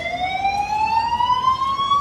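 An ambulance siren wails with a slow rising sweep at a protest, steady and fairly loud, with faint traffic rumble beneath and no talking.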